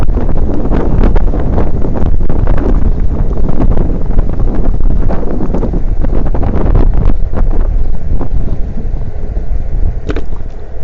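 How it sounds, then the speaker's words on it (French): Loud, constant wind buffeting roars across the microphone as an electric scooter rides downhill at about 19 mph, a dense rumbling gust that masks everything else. "Ah, le vent qui apparaît"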